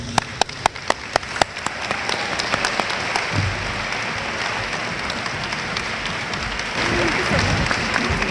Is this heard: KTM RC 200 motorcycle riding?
no